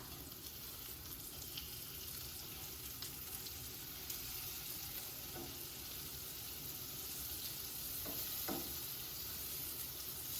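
Eggs fry in a pan on high heat, cooked until crispy. A steady, faint sizzle hisses without a break, with a few small pops and no voices.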